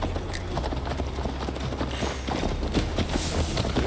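Horse hooves gallop in steady, rapid clip-clop over a low rumbling bed of ambient game sound in Assassin's Creed Valhalla, the ride continuous and fairly loud throughout.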